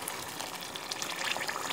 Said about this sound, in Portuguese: Aí aqui eu vou apanhar água também.